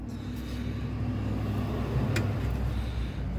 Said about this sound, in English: we got the truck driving by to make noise.